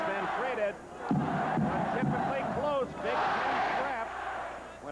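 A basketball crowd at Illinois' Assembly Hall during a close Big Ten game roars in waves, a large indoor mass of voices swelling and dipping while a commentator talks over it.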